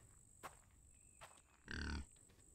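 A single low, nasal pig grunt in a video game bursts out close by, preceded by a couple of faint clicks over a quiet background hum.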